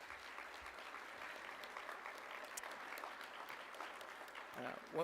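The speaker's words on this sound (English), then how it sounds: "So let's all please give Bev a big round of applause." An audience at a live celebration-of-life event claps in a steady, moderately faint round of applause that holds evenly for several seconds.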